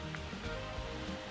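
A distant waterfall along a hiking trail gives a steady, broad rushing wash of water, faint and continuous for a brief moment, with no voices.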